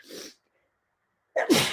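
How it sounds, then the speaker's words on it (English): A sharp, loud sneeze bursts out close up after a quick intake of breath and a brief silence. "I keep having to sneeze."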